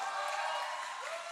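Applause from an audience at a live talk event, a steady broadband patter of many hands clapping throughout, fairly faint and distant with a tonal hum running under it.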